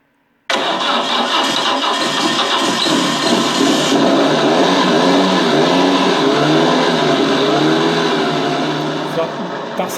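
An RC car sound module produces a loud simulated engine that kicks in abruptly and then holds a steady idle for the rest of the stretch, with a rough mechanical rumble that fades slightly near the end.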